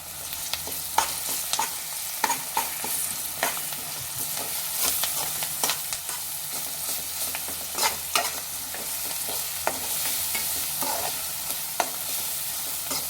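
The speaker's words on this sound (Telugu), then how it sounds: "అల్లం వెల్లుల్లి పేస్ట్, కరివేపాకు వేసుకొని కొంచెం ఒక 1 మినిట్ మగ్గించుకోవాలి." Ginger garlic paste and curry leaves frying in oil in a pan for a ridge gourd curry, a steady close sizzle broken by repeated sharp clicks and scrapes of stirring.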